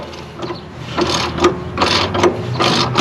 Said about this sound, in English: I'm gonna break this bottom one loose